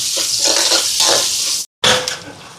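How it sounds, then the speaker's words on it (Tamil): Shallots, curry leaves and green chillies frying in a pan for an ambarella-fruit dish, a steady loud sizzle with a brief cut partway through, then the sizzle returning and easing off. "இதோட சின்ன வெங்காயம், கருவேப்பிலை, பச்சை மிளகாய், இப்போ இதெல்லாம் நல்லா வதங்கட்டுக்கும்"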